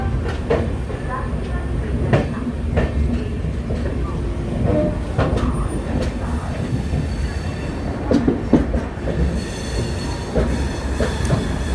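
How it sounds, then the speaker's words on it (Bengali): The 12346 Saraighat Express leaves Guwahati, heard from on board as a steady rolling rumble with rhythmic wheel clicks and occasional squeals, with faint voices in the carriage. "গুয়াহাটি থেকে ছেড়ে দিল আমাদের ট্রেন 12346 সরাইঘাট এক্সপ্রেস"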